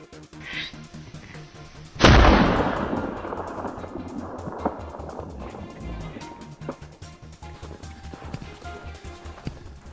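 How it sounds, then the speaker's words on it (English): A single sharp rifle shot cracks out at a wild boar hunt in snowy country, followed by a decaying rumble, while hooves clatter and a horse-like whinny sounds around it. "The sudden gunshot sent shockwaves through the herd"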